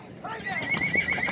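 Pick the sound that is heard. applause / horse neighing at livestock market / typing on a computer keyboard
horse neighing at livestock market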